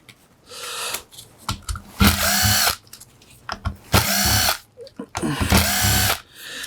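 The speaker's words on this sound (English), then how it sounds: "We need a bigger screwdriver." A power screwdriver whirs in three loud bursts of a second or so while removing screws from a Mercedes hybrid N129/1 power electronics inverter during a teardown, with short clicks and brief quiet gaps between runs.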